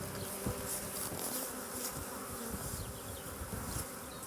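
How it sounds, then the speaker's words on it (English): A swarm of honeybees clustered in the open hums with a dense, continuous buzzing that holds steady and fairly close throughout, with no voices over it. "This is a swarm. This looks exactly like a swarm in the wild."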